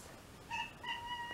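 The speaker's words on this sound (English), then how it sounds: "It's my cat." A pet cat meows in two short, tonal calls close by, alone against a quiet room.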